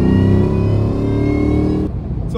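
A Terminator Cobra with a supercharger and full exhaust revs loudly up close, a deep throaty engine roar holding high then dropping off sharply.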